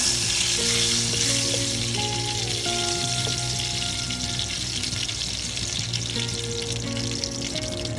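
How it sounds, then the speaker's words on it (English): Two broken red chilies fry in freshly heated oil for a dal chicken curry, giving a bright, continuous close sizzle with soft bubbling and a little stirring, alone and without talk. "The oil is heated up nicely, and to this I'm going to take the 2 red chilies, break them up, let them cook just a little bit."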